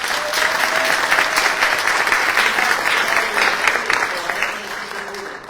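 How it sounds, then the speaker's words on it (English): An audience at a memorial gathering gives a warm, sustained round of applause, dense and fairly loud, fading a little toward the end. "Please give him a round of applause."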